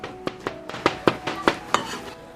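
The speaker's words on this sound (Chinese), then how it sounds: "五花肉剁碎备用" A cleaver chops pork belly in about eight sharp, close strikes at a quick, slightly uneven pace.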